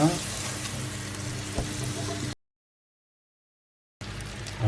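Butter sizzling and frying in a hot pan at the start of a simple rice pilaf, a steady dense crackle with one brief knock, cut by a stretch of silence before the sizzle returns.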